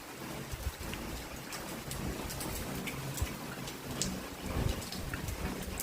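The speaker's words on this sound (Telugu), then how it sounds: "మళ్ళీ ఈరోజు అయితే వర్షం వచ్చేసింది. చూడండి ఒకసారి ఎలా పడుతుందో." Rain falls steadily in a dense, even hiss, with scattered nearer drops tapping out irregular clicks across the whole stretch and no voices.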